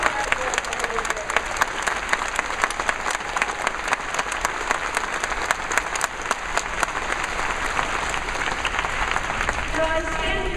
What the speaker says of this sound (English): So please join me in another round of applause.